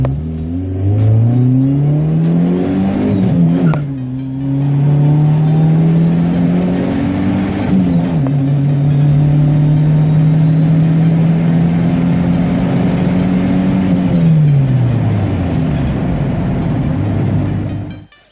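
A stock-engine Honda fitted with twin turbos accelerates hard from about 1700 RPM, engine note climbing steadily through several long pulls with brief dips between them, loud and close throughout.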